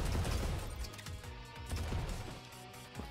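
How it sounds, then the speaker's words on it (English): Rocket explosions from the Rocket mod in Risk of Rain 2 crash in a rapid series of booming blasts amid game sound effects. "It's a pretty big explosion, too."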